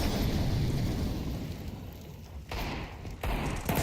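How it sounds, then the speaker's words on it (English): A loud bomb explosion in the game Counter-Strike booms up front, then its rumbling tail fades out over a few seconds and is broken by brief abrupt cuts in the sound. "It's the explosion."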